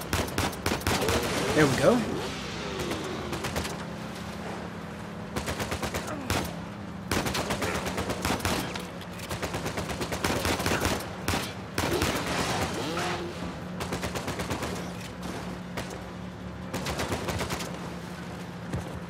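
Gunfire in the video game Uncharted 4: dense bursts of automatic shots and single cracks go on and off throughout. A player's voice speaks briefly under the shooting.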